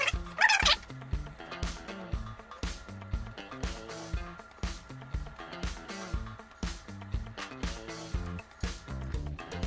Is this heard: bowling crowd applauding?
no